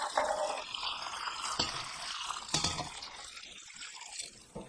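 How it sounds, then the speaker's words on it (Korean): A hot pickling brine, just boiled with soju stirred in, is poured over garlic scapes in a container: a continuous splashing, gurgling stream, fairly close, with a few louder splashes and no talking. "뜨거운 상태로 마늘종에 부어줍니다."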